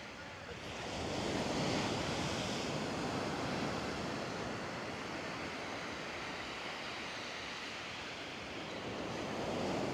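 Ocean surf at Playa Camarones in Puerto Vallarta after Hurricane Priscilla, a steady broadband wash of breaking waves with wind noise on the microphone, swelling loud after the first second and rolling on continuously, with no voices.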